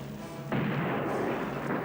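A cannon fires aboard a pirate ship in an animated adventure series, one sudden heavy blast breaking over a quiet background and then rumbling on loud and broad to the end.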